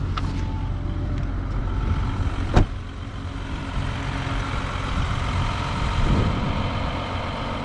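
An Audi car engine with a weak battery, just started, runs with a steady rough hum and rises in revs on its own, with a sharp click near the start and a swell of engine noise toward the end.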